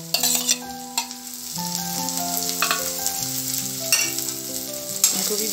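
Two chopped onions fry in a pan for veg spring rolls, giving a steady close sizzle with occasional stirring scrapes and no talking.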